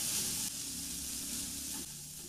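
Diced carrots and corn kernels sizzle and fry in a pan while being stirred, a steady close hiss with faint scraping shifts, no voices.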